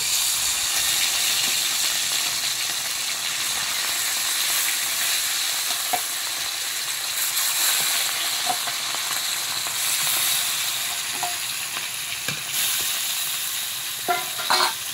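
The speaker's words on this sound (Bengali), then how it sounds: "তেল আমার গরম হয়ে গেছে, এবার মাছগুলোকে এক এক করে দিয়ে দেবো।" Fish fry in hot oil in a wok, a loud, steady sizzle with crackling that goes on throughout, broken by occasional small clicks and scrapes.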